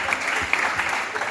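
A congregation applauding during a French-language church service, with steady, close clapping from many hands that carries on without a break.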